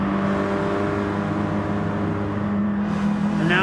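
Touring cars racing at Dragon Trail Gardens in Gran Turismo Sport, N300 class: a steady, loud engine drone with harmonic whine that holds throughout, rising slightly near the end, with no talk over it.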